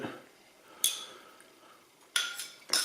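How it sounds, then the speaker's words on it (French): A carbon steel knife blade stirring a cup of sugared tea, giving three sharp metallic clinks against the cup at irregular intervals, close and fairly quiet, with no voices. "Donc je prends mon thé, voilà, je le remue."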